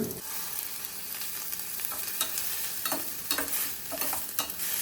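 Chopped garlic, with onions, frying in a pan while being stirred, a steady close sizzle broken by repeated scraping strokes of the spoon; no voices.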